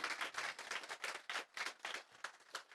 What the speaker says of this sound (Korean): 아주 멋진 퍼포먼스를 보여주신 우리 이준영 마술사님께 다시 한번 큰 박수 부탁드리겠습니다